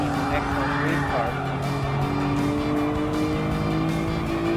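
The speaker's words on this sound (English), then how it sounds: "So they love that Calsonic Skyline R32 because this is definitely an excellent race car." Calsonic Skyline GT-R R32 race car in the Gran Turismo Sport racing game, engine droning steadily and loudly with shifting pitch, brief tire squeal or skid, continuous throughout under faint background voice.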